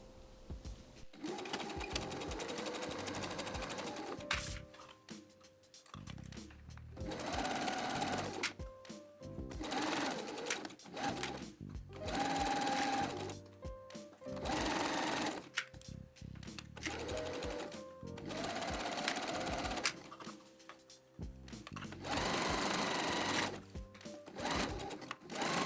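Sewing machine zigzag-stitching the trimmed seam allowance of a fitted dress, fast rhythmic needle clatter in several bursts with short pauses between them, close and clear.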